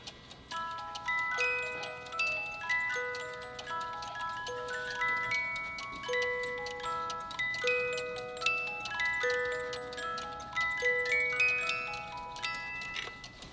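A cuckoo clock with a wood chopper figure and a turning water wheel plays a bright music-box melody of plucked tones in a steady rhythm, alone and fairly quiet.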